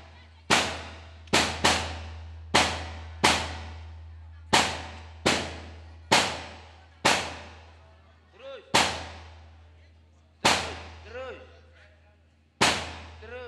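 Firecrackers bursting one after another, about a dozen sharp loud bangs at uneven intervals, each with a short ringing decay over a steady low hum, while people call out between blasts.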